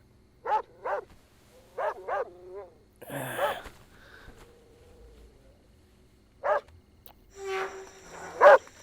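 An army dog barks in short paired bursts, moderately close, with scattered voices and shuffling between the barks and a final loud bark at the end.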